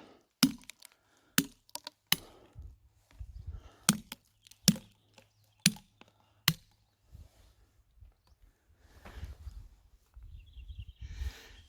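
A hammer strikes steel feather and wedges driven into rock to split it, with about eight sharp, ringing hits at irregular intervals, followed by softer shuffling and handling noises, no talking.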